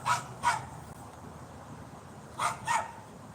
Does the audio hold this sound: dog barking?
yes